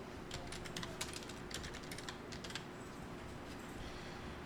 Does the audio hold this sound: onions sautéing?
no